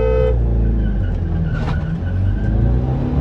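Two Chevrolet Cruze sedans, one automatic and one manual, launch side by side in a drag race, their engines droning loud and steady with a brief rising surge of revs and faint tire noise.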